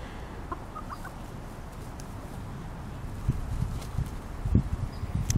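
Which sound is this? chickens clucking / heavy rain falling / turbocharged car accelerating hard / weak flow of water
chickens clucking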